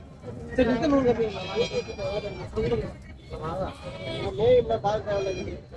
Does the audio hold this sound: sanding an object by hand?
no